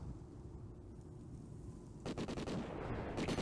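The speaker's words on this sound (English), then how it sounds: "That sniper currently hearing shots being exchanged" Gunfire exchanged in a Call of Duty: Ghosts 4v4 tournament match: after a steady low rumble, a rapid burst of sharp, closely spaced shots erupts midway, followed by a few more cracks near the end.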